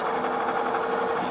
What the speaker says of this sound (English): Now we pull a vacuum.